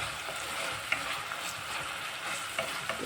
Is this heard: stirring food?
yes